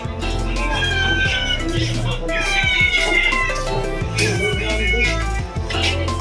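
A cat meows loudly and repeatedly at a busy island fish stall, its cries rising through a dense, noisy backdrop of voices, crowd chatter and bustle.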